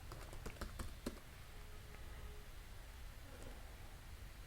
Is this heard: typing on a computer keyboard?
yes